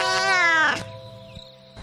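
A cartoon cat lets out a loud, drawn-out meow that slides downward and cuts off, followed by quieter background tones.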